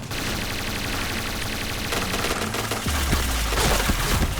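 Rapid automatic gunfire in the shooter game Point Blank, loud and continuous, with bursts of shots layered over one another and heavier, deeper blasts toward the end.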